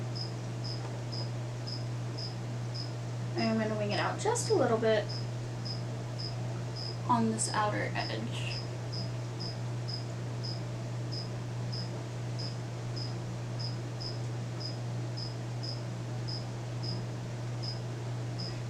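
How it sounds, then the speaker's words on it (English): Feeder crickets housed with a Pac-Man frog chirp in a steady, evenly spaced rhythm throughout, faint and in the background, with a low electrical hum and someone speaking briefly over them. "My husband put in too many crickets with our Pac-Man frog today, so it is just chirping away."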